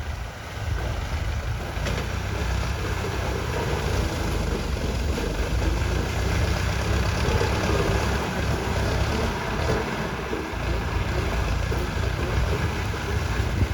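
Steady, heavy engine rumble of a tractor pushing over bent sugarcane in a cane field close by, continuous and droning with a constant low roar and wind noise throughout.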